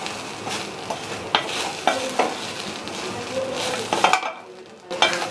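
Grated coconut roasts in a pan over a low flame with a soft continuous sizzle, while a utensil stirs and scrapes it in occasional sharp strokes, close and moderately loud.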